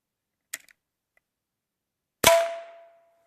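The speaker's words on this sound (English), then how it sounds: "So this last shot was from a .22 long rifle from about 5 yards." A .22 long rifle round fired from about five yards strikes the steel oil pan of a 2012 Jeep JK Wrangler: a faint click, then one sharp, loud crack with a brief metallic ring fading out, no talking.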